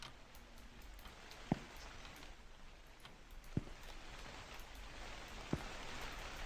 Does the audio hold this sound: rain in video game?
yes